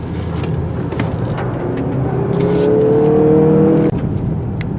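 A 2018 Mazda CX-9 with all-wheel drive runs loudly over loose gravel, its engine droning and rising in pitch while stones rumble and crunch beneath the tyres, ending in a sharp knock.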